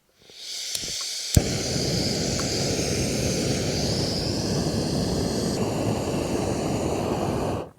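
A camping stove burner roars steadily at close range while heating water back to a boil for a camp mac and cheese meal, a continuous rushing hiss after a few clicks at the start.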